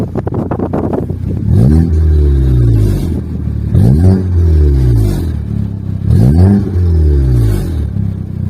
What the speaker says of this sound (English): It has a really beautiful exhaust note